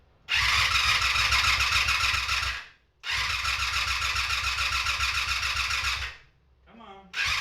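A Honda Interceptor VF500F motorcycle cranks with the choke on: two long, loud whirring starter bursts separated by a short gap, the engine never catching, and a brief voice at the end.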